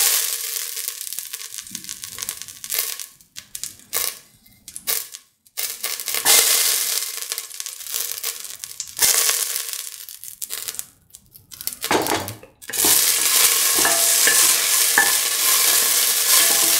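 Dry grapes fry in butter in a pan while being stirred, giving a loud crackling sizzle broken by scraping, crunchy spoon strokes and brief pauses, close up with no talking.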